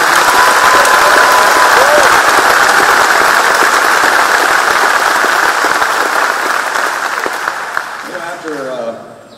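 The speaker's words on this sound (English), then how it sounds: "Let's give them another big round of applause" A large crowd applauds at a state police trooper graduation ceremony, a loud dense roar of clapping that holds steady, then thins and fades toward the end as the hands stop.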